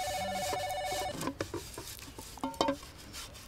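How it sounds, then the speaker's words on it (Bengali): A telephone rings in a house with a short electronic trill of tones, then stops. Soft clatter and a few sharp knocks follow nearby, and no voices are heard. "এই ভেতরে ফোন রাখলে তুমি কি করে ধরবে বলো তো?"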